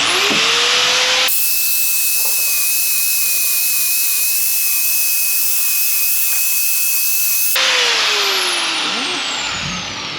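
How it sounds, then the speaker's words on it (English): A belt sander used as a sculpting tool on a painted part runs loudly and steadily for several seconds as a continuous high whine, between the rising and falling hum of the motor spinning up and down. "Once in a while, you can use your belt sander as a sculpting tool."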